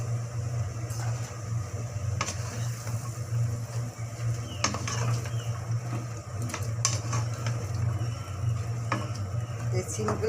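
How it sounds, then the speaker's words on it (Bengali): Beans, carrots, potatoes and tomatoes go into well-fried spices in a pan for a winter vegetable curry, with a soft steady sizzle, occasional scrapes and clinks of a stirring spoon, and a low hum underneath. "এবার এর ভিতরে আমি সিম, গাজর, আলু, টমেটো এগুলো দিয়ে দিব"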